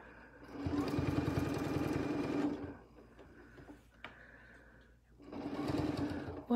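Sewing machine running in two steady bursts, stitching in the ditch on a quilted fall table runner, a close buzzing whir with a quiet pause and a few small clicks between runs.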